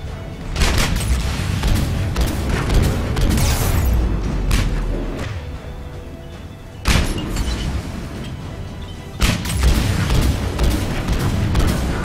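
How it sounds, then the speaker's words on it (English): Grenade explosions in Mass Effect 3 land as repeated deep booms in a loud firefight, with sharp blasts breaking through a constant rumble of combat. "Fire the grenades!"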